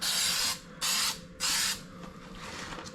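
Three short bursts of spray adhesive hissing from a can onto the back of a subfloor repair piece, each about half a second, separated by brief pauses in a quiet room.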